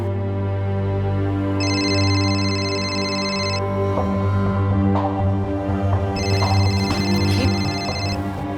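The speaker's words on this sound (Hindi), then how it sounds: "ये फोन किसका बज रहा है?" An electronic phone ringtone trills in two bursts over a loud, sustained background music bed, with rustling noises in between.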